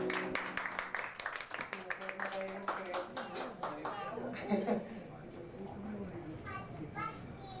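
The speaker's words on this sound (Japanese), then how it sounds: "皆様拍手を。" An audience claps at a live jazz session, brisk applause in the first seconds that gives way to voices and light chatter in the room.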